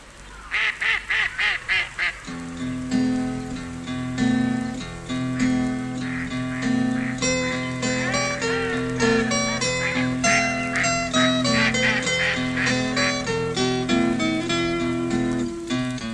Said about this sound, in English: best of all I like the ducks who swim in Trumpton Park